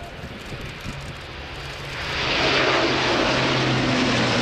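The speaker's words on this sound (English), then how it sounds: "It is the Airbus A400M." Airbus A400M Atlas military transport plane flying a display at an airshow, its turboprop engine roar faint at first, then swelling into a loud, steady drone as it passes closer.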